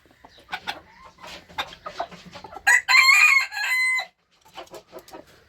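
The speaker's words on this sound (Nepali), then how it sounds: "भालेको एक्सन हेर्नु न" A Luise rooster crows once, loud and close, after a stretch of soft clucking from nearby fowl.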